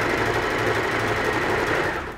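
A sewing machine runs a steady, fast whirring stitch along the fabric lining of a zipper clutch bag, close and continuous before slowing and fading at the end.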